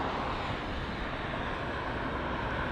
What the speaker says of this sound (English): let's get a nice clean follow-up on this 787 Dreamliner